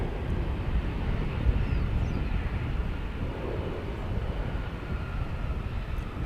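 An Airbus A321 airliner at DFW airport, heard as a steady, broad, distant jet roar that holds evenly throughout with no talk.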